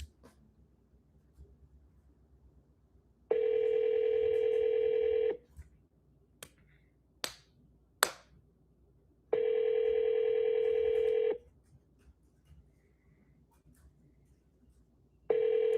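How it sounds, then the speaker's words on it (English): A telephone call being placed: two long, steady tone bursts separated by a few sharp button clicks and a quiet pause, with the tones loud and close against faint background hiss and no talking. "So I'm going to call the realtor right now"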